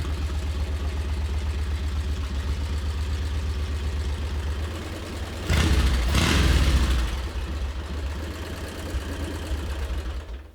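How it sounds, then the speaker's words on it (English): A 1925 Super-X Super Sport motorcycle engine runs steadily at close range, holding a loud, even idle with a brief surge of revving near the middle before settling back. "What an awesome motorcycle."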